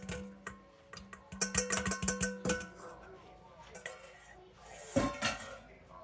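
Eggs, milk and vanilla being stirred together for cake batter in a bowl, with a run of clinking utensil taps against the dish, close and fairly loud, then quieter scraping and a final clink.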